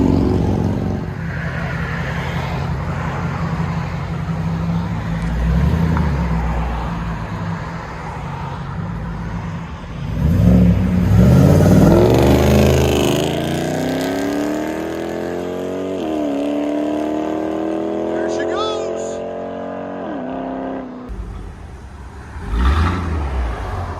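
A 2005-2009 Ford Mustang GT California Special with a 4.6L V8 and aftermarket exhaust idles with a deep rumble. It then revs loudly and the pitch sweeps up and falls back, close by, with no talk.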